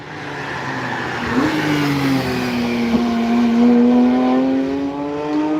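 A car on the Nürburgring track during tourist driving roars past close and loud, its engine note rising and then sliding downward in pitch as it goes by, with a sustained drone filling the whole moment.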